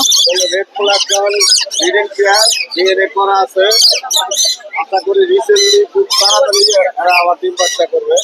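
Pet birds for sale at the Mirpur 1 bird market call in rapid, bright chirps and tweets, close and loud throughout. A person speaks intermittently alongside them.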